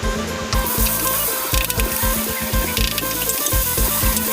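Pounded curry paste stir-frying in a hot pan for a spicy eel stir-fry, loud sizzling with a steady, rhythmic scraping of a spatula against the pan, close and continuous.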